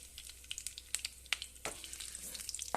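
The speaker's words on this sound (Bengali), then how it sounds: "এবার এই তেলের মধ্যেই আমি ফোড়নটা দিয়ে দেব।" Whole spices for tempering sizzle and crackle in hot oil while cauliflower roast is being cooked, with faint irregular pops and spits over a soft hiss. Close and quiet, with no talking.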